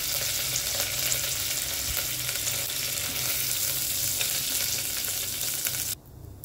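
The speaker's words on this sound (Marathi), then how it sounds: "तेल गरम झालं की त्यामध्ये आपल्याला जिरं घालायचं आहे, कढीपत्ता घालायचा आहे" Cumin seeds and curry leaves sizzle steadily in hot oil inside a pressure cooker for a Marathi gola bhaat, a constant close frying hiss that drops away sharply at the very end.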